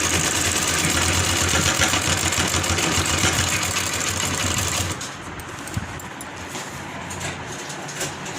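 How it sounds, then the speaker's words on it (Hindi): A sewing machine runs steadily as it stitches kurti seams, a dense rapid mechanical whir for about five seconds that then drops to a quieter hum with a few faint clicks. "इस पे सिलाई लगाएंगे, पक्का करते हुए इस तरह से"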